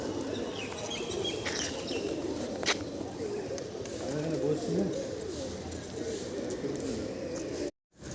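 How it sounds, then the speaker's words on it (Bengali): Pigeons cooing: soft, repeated low coos from a flock close by, running continuously under a voice talking, with faint chirps and a brief dropout near the end. "কত পায়রা, আমার বেশ ভালো লাগে এদেরকে"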